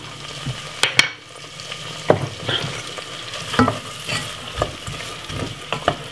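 Spring onion frying in butter and oil in a pan, a close, steady sizzle broken by repeated scraping and knocking of a utensil stirring against the pan, with no talk.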